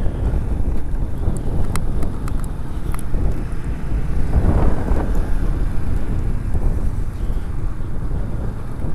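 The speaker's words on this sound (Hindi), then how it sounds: "आज हवा बहुत तेज़ चल रही है यार" Strong wind buffets the microphone with a heavy, continuous low roar while a Suzuki GR150 motorcycle is ridden, swelling briefly in the middle and drowning out most other sound.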